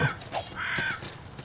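Crow cawing in the video game Salt and Sanctuary, a few harsh calls scattered over a steady bed of game sound, fairly faint and with no talk.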